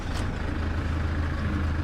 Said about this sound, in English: what I'm going to get you to do is start the car up straight away